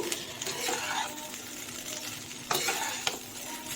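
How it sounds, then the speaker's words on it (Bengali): Fried rice with ghee, garam masala, sugar and salt is stirred in a pan, producing a soft steady scraping and light sizzle with a couple of sharper utensil knocks near the end. "ভাতটাকে আমি সুন্দর করে নাড়িয়ে নেব"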